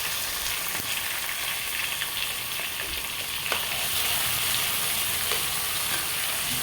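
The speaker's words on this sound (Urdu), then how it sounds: "اب ہم اس میں ڈالیں گے چکن کو ہم نے اچھی طرح بھوننا ہے۔" Chicken pieces fry with light-brown onions in a pan for a chicken and chickpea dish, giving a steady, close sizzle with occasional stirring scrapes throughout.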